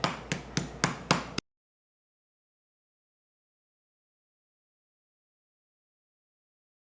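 A kitchen hammer pounds raw chicken to tenderize it for katsu, four evenly spaced dull whacks close up, followed by silence.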